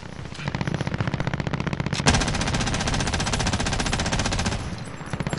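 Video game machine gun unloading a 400-round magazine at a helicopter, a rapid unbroken stream of shots lasting several seconds, loud and close with no talk.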